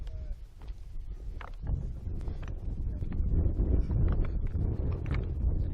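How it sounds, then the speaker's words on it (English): Strong wind gusts roar and buffet the microphone on a hiking trail, building louder and steadier over several seconds with faint voices underneath. "Really windy."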